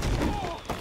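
Gunfire in the Batman Telltale Series video game: a brief, dense burst of overlapping shots and impacts over a low rumble, lasting under a second.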